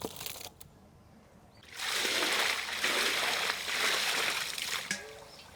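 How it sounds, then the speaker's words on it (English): Washed raw chicken is drained, water splashing and pouring out in a sustained rush after a quieter start, with a brief clatter near the end. "Now we will drain water from chicken."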